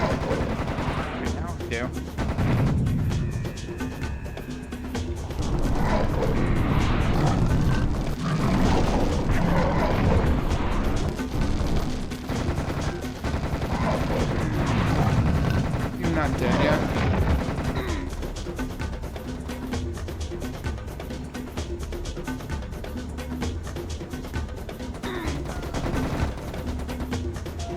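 Rapid gunfire in the shooter game Serious Sam: The Second Encounter, with bursts of shots and booming blasts running nearly continuously, loud and dense, while a player talks over it at times.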